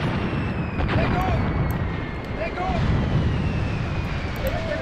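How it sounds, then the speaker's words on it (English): Massive artillery fire in the Graviteam Tactics: Mius Front video game forms a dense, continuous low rumble of distant barrages, loud and steady throughout, with faint higher whistles on top. "Still calling in massive artillery, which must be all the way over here at the church area."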